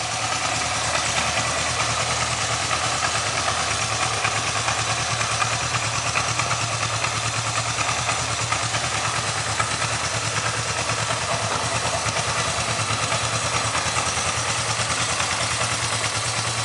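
A Kawasaki 305 motorcycle sits at a smooth, constant idle nearby, its steady low engine throb carrying a light mechanical clatter, unbroken and with no voices.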